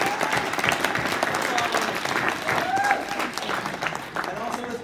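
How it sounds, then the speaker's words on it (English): Applause from a conference audience at a wealth-management event for its corporate staff: dense, steady clapping throughout, with voices and faint music mixed in underneath. "can we give a big round of applause to our corporate staff?"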